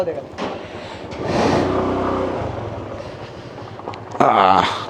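A vehicle passes close by on a road during a motorcycle ride from Mumbai to Panchgani, its engine rising over steady wind and road rumble, with a brief louder burst near the end.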